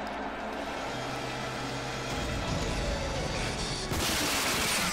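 Bursts of upgraded assault rifle fire in the shooter game RAGE, rapid and dense automatic shots that hammer steadily through the whole clip and grow louder and harsher near the end, with no talk over them.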